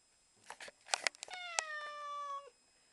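A cat meows a few times up close, with short chirpy calls leading into one drawn-out, falling meow.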